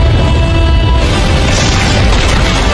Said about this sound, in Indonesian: Lalu melemparkan api ke dalam sarang, memicu ledakan besar, dan dalam sekejap seluruh sarang semut terbakar habis